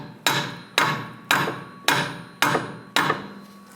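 Six sharp, evenly spaced hammer taps ring out near and loud, driving the axle into the strut assembly's lower ball joint on a Volkswagen Beetle (1998–2010) with no voices.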